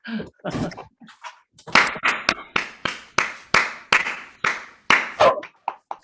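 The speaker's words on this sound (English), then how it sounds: "we should give ourselves and everybody else a thorough round of applause" Scattered, sparse clapping from a small group closing a folklore talk: after a few coughs and murmurs, individual hand claps ring out in a slow, irregular series, each crisp and close, with no dense crowd roar.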